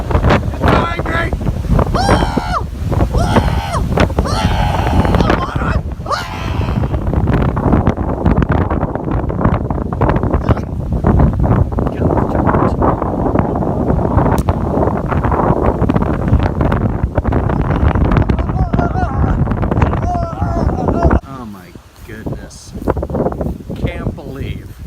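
Strong gusty wind roars across a residential yard in Simi Valley, loud and continuous with heavy microphone buffeting, easing near the end; a person talks over it.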